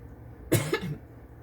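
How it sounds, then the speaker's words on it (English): Two quick coughs close together, near and fairly soft, with quiet room tone around them. "I'm sorry, I'm just coughing a little bit."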